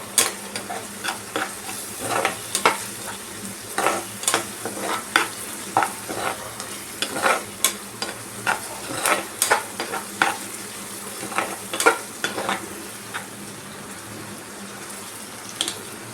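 Tomato masala for Katla fish kalia stirred in a hot pan, with repeated scraping strokes and wet sizzling bursts in an irregular rhythm over a low, steady sizzle, heard close up and without talk.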